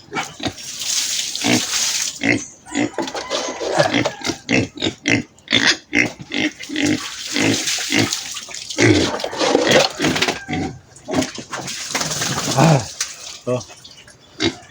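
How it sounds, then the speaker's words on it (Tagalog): A group of piglets behind a house grunting and oinking in rapid, overlapping bursts, close and loud, with water sloshing and a brief human exclamation. "Yung mga biik natin. Nasa likod sila mga palalabs."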